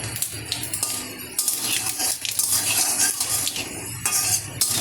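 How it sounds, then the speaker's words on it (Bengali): Whole panch phoron spices hitting hot oil in a wok, with clinking of metal utensils and pots and a light crackle throughout, close and busy with no speech. "কড়াইতে দিয়ে দিলাম 5 ফোড়ন"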